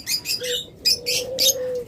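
Lutino red-head red-eye birds give a run of bright, close chirping calls in short bursts, with a steady tone held low beneath them.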